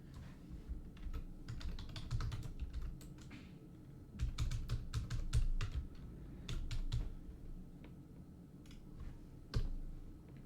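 Bursts of keystrokes on a computer keyboard, close and distinct, arrive in quick irregular runs with short pauses between them, over a faint low room hum and no talking.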